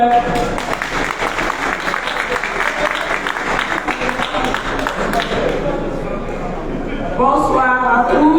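Crowd at an outdoor mobilization rally in Paris for Mali applauding steadily, a continuous wash of clapping with people talking and calling out over it, fading as a voice takes over at the end.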